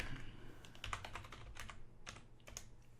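Someone types on a computer keyboard, making quick, quiet, irregular clicks close by with no voices.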